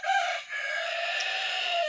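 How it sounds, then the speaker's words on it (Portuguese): A rooster crows nearby in one long, loud, drawn-out call with a brief break, heard alone without talk. "O galo participando."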